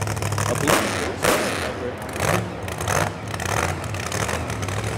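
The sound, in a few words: loud car engine revving in a parade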